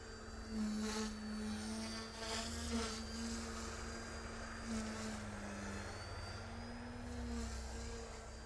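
OMPHobby M1 micro 3D RC helicopter doing pitch pumps, a steady close whine from its direct-drive rotor and tail with the pitch rising and falling in slow waves as the head loads and unloads.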